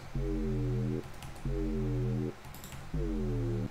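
Three steady, buzzy Operator synth bass notes with no pitch envelope, at an even pitch, each held just under a second with short pauses between, loud and upfront.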